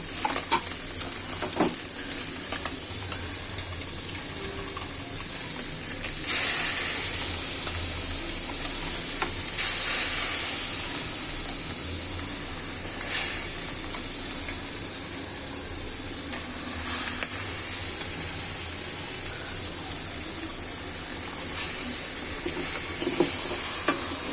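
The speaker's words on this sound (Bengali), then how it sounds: "আমি এখন এতে ডালটা ছেড়ে দিব" Fish head and mung lentils sizzle and fry in a hot pan for muri ghonto, with steady hissing and scraping stir strokes that swell at intervals, close and continuous with no talking.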